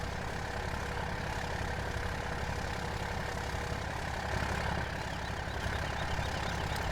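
A steady, low Cummins diesel engine from the video game Farming Simulator 17 idles continuously with a constant rumble and no breaks, fairly close and loud throughout.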